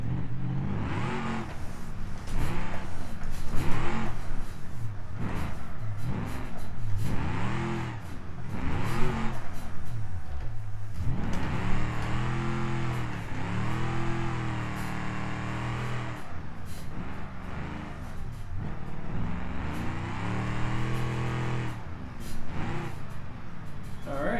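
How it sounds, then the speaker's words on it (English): A car in the BeamNG driving game drifts into a donut, its engine revving up and down in repeated surges with a sustained high-revving stretch in the middle, loud and continuous. "we're gonna try to hold that into a donut until where we control it"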